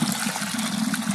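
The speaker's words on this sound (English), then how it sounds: "I've got my strainer right down here, and I'm going to pour and drain them out" Boiled potatoes are poured into a strainer, and the hot cooking water gushes through in a loud, continuous rush that fills the whole moment without a break.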